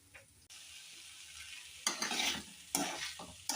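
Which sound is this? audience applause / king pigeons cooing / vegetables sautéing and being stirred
vegetables sautéing and being stirred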